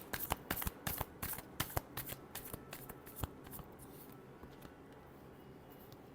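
Tarot cards are riffled and shuffled by hand up close, giving a quick run of crisp flicking snaps that thin out into soft, quieter rustling.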